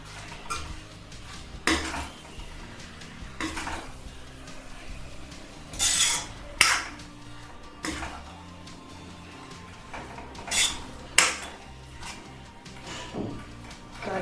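Metal spatula clanking and scraping in a pan while Hakka noodles are tossed and mixed with masala, irregular knocks and scrapes every second or two over a quiet background hiss.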